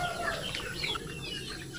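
Heritage chickens cluck steadily in a free-range pen, several birds overlapping in a busy close-up chorus with faint chirps mixed in.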